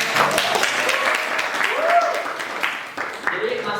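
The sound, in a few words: students applauding in class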